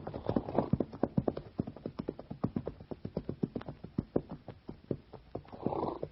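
Several horses walk toward a pond in a western drama, their hooves clip-clopping in a steady, close, even rhythm throughout, with a soft rumble near the start and end.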